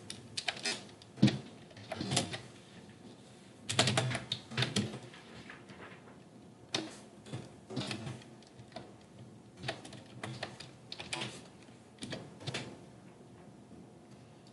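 Keys clatter on a computer keyboard as Java for-loop code is typed, coming in irregular bursts of rapid clicks separated by short pauses, close and clear with no talking.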